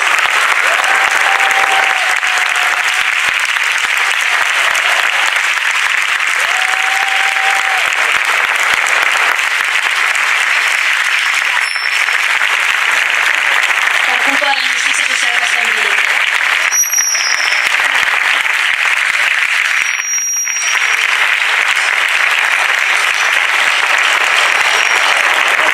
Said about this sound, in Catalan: us volia demanar un fort aplaudiment per a tots aquells presos polítics i exiliats